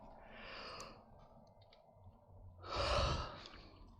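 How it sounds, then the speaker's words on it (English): One soft, drawn-out breathy exhale rises near the end of a quiet stretch, a faint close yawn over low background hum. "Oh my god, I'm yawning again"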